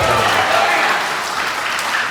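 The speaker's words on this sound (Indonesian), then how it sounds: "Tepuk tangan buat Pak Daniel." A room full of people at a university public lecture claps steadily, a dense wash of applause that holds throughout without a break.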